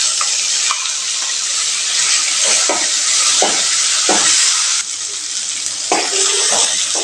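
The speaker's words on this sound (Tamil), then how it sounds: "அடுப்பு சிம்மில் வச்சு ஒரு 10 நிமிஷம் இப்படி கலந்து கொடுத்துக்கிட்டே இருக்கலாங்க" A steady, dense sizzle of ground coriander paste frying in oil on low heat runs throughout, with intermittent scraping and stirring strokes near the pan and no talking.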